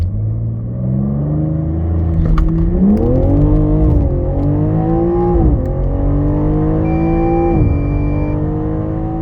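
Close, loud BMW M3 Touring Competition xDrive 3.0 inline-six engine revving hard through several gear shifts during a 0-100 km/h run, pitch climbing then dropping at each change as it accelerates.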